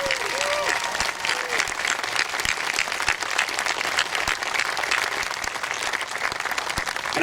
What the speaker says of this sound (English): let's please give them a round of applause as well